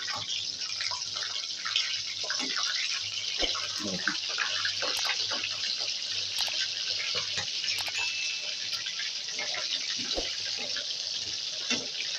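Manchurian pieces frying golden in hot oil and being flipped one by one give a steady, dense sizzle that runs the whole time, with scattered small clicks and scrapes from the turning.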